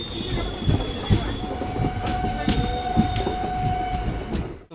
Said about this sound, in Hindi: चलिए 2 मिनट होल्ड के बाद डिपार्चर हो चुका अपनी सगौली